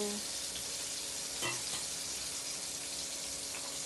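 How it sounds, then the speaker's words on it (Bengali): Eggplant slices frying in hot oil, a soft steady sizzle and crackle near at hand that runs on evenly, with one brief clatter partway through. "বেগুন ভাজা হচ্ছে"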